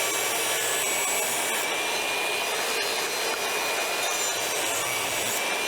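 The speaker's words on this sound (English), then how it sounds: "Now what we're gonna do is trim up these pieces just a little bit to make sure our edges are nice and parallel" A table saw trims wooden fence picket pieces, a loud continuous whining cut with a steady blade hum and rushing wood noise held for several seconds, close and alone without talk.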